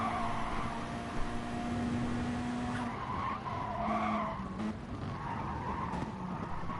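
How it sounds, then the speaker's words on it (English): A Mitsubishi race car is driven hard at Bathurst. Its tires squeal and skid in long sustained tones over the continuous drone of racing engines. "He is pushing hard, wringing the neck out of that Mitsubishi."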